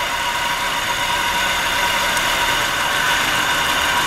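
A 1997 Nissan Altima engine idling with a misfire, a steady loud droning hum heard up close without talk throughout.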